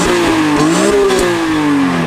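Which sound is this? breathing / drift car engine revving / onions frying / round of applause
drift car engine revving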